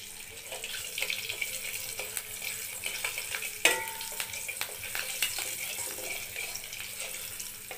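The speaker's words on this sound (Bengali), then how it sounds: "ফোড়নে দিয়ে দিয়েছি হাফ চামচ কালো জিরে আর একটা কাঁচা লঙ্কা।" Nigella seeds and a green chilli frying in hot oil make a steady, soft sizzle and crackle with a few sharper pops, close and continuous, with no talking.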